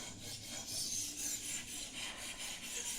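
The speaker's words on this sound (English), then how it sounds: "then you simply start your sharpening until you get a burr" A kitchen knife drawn repeatedly across the abrasive of a XARILK sharpener gives a steady, close rasping scrape that pulses with each stroke, loud and continuous with no talking.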